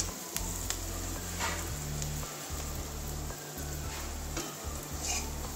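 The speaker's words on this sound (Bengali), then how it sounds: "পেঁয়াজের কাঁচা গন্ধটা যাওয়া পর্যন্ত ভেজে নেবো" Onion, garlic and chili frying in a pan make a continuous dense sizzle with a low steady hum underneath and occasional faint stirring clicks, without any speech.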